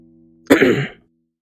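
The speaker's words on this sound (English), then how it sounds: "let out a simple cough when he realized he was being called" A narrator performs a single short throat-clearing cough during an Umineko audiobook reading, one brief close burst lasting about half a second and then silence.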